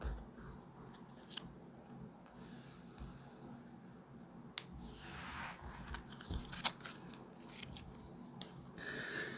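Tarot cards are shuffled and drawn by hand, making soft, irregular papery snaps and riffling flicks, close and quiet against a faint background hum.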